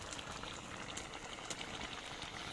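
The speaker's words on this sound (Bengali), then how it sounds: "একদম টকবক করতেছে, তরকারি হয়ে গেছে" Curry simmering in a pot, a continuous soft bubbling and popping texture, faint and close, with no talk.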